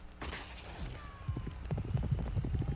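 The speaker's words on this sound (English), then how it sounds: "All 12 horses bolt forward with incredible speed." Twelve racehorses bolting from the start of a derby. A brief whoosh is followed by quick, thudding hoofbeats that build into a dense, rapid galloping rhythm.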